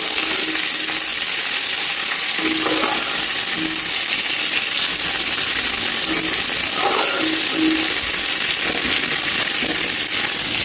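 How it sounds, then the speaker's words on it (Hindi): Food fries in hot oil with turmeric, coriander and chili in a home kitchen, giving a loud continuous sizzle with occasional stirring clinks and scrapes. "इसको फ्राई कर दूँगी अच्छे से"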